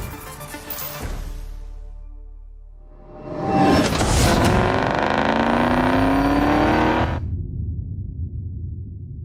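A Ford Mustang Mach-E electric car pulls away and drives past with a rising whooshing hum and whine that swells loudly for a few seconds and then drops off abruptly, with no engine rumble.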